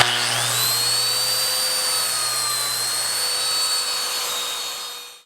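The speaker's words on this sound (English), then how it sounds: "Now I can take my biscuit joiner, line up the center point, line up those marks I just made," A biscuit joiner plunge cut rings out as a steady, loud high-pitched motor whine with a low hum beneath, holding for about five seconds before spinning down at the end, with no talking.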